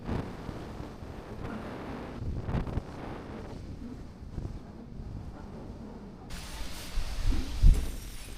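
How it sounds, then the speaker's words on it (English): Steady wind roars across the microphone at the top of the War Memorial Stairs in Whanganui, with gusts that rise and fall and grow stronger near the end. "Pretty windy up here."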